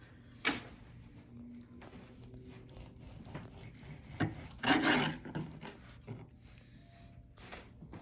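A knife slicing through smoked pork loin on a board gives soft, quiet rasping cuts with a few louder scraping strokes, near and with no talk.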